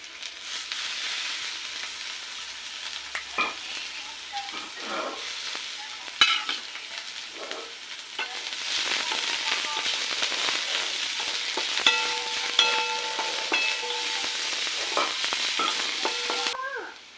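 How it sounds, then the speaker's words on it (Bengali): Onion and garlic fry in a pan for masoor dal, with a steady close sizzle broken by scraping and clinking stirs and a louder spatter in the second half; no one talks. "পেঁয়াজ রসুনটা ভাজা হয়ে গেছে"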